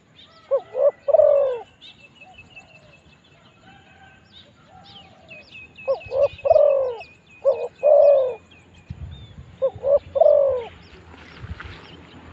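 Spotted dove cooing outdoors in the early morning, several clear mellow phrases in spaced bursts with faint background birdsong between them.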